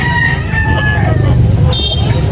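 A rooster crows loudly and close by at a chicken market in Carbon, Cebu, its call rising over a steady low rumble of engine noise in the background.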